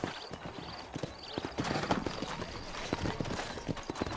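Horse hooves clip-clop steadily on a dirt road in the Western video game Red Dead Redemption, several horses walking close by in a busy rhythmic patter with a faint whinny and a voice speaking over it.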